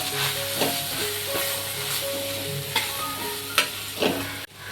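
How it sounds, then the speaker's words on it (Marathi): Capsicum sautéing in a pan with red masala, garam masala and turmeric gives a steady close sizzle, with a few sharper stirring scrapes and clinks rising over it and no talk. "आता हे परतून घेते मी चांगले"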